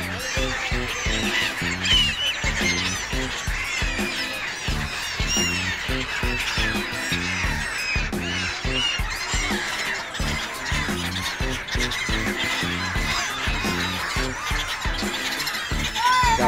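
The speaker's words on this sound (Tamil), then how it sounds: "அந்த தானியத்தை எப்படி சாப்பிடுது பாருங்க, பறவைகள் தானியத்தை சாப்பிட்றதுக்காக வந்து" A large flock of birds feeding on scattered grain at the confluence of the Ganga, Yamuna and Saraswathi rivers, a dense, continuous chorus of squeals, squawks and honk-like calls, loud and near, with no clear talk.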